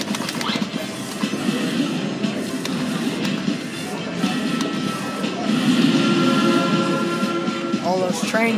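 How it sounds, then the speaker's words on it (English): Trains rush past in a Crossy Road arcade game at an entertainment center, a busy clattering rumble with game sounds and arcade noise, and a person talking over it. "All those trains going by."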